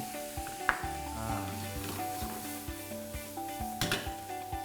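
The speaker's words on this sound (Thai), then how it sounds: "ผัดจนทุกอย่างมันสุก" Shrimp filling for Thai flower spring rolls stir-fries in a pan with a steady sizzle, while a spatula scrapes and taps against the metal in an uneven rhythm close by.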